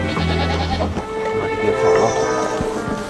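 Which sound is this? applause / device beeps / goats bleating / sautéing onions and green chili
goats bleating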